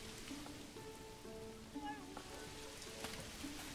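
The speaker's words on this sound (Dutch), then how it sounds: "Het is heel hard aan het regenen op dit moment." Heavy rain in the medieval city-building game Manor Lords makes a soft, steady hiss throughout, quiet overall, with faint tonal game sounds drifting over it.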